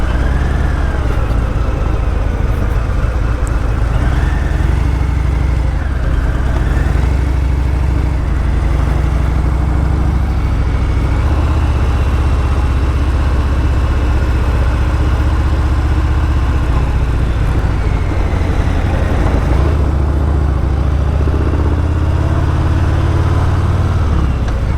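A Harley-Davidson Fat Bob with a 107 cubic inch, 1800cc engine, heard while riding as a loud, constant low rumble and drone that holds for the whole stretch, with shifting pitch and no talking.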